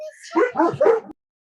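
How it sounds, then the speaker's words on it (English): Dogs bark three quick times, close and fairly loud, then the sound cuts off to silence. "Hold on, my dogs might bark, so I might have to mute you."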